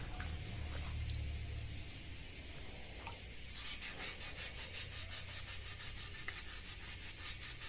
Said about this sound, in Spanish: vamos a pasar la siguiente lija